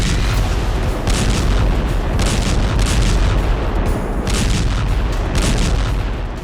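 Heavy gunfire and explosions in the Gaza war around a hospital, heard as a dense, continuous roar of booms and bursts that stays loud for the whole stretch, with no voices.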